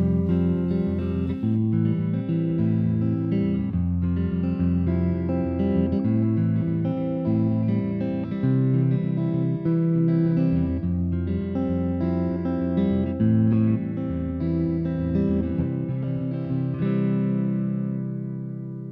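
A chord progression is played on an instrument, with full sustained chords changing one after another at a steady pace. The sound is loud and continuous and the last chord fades out, with no talking.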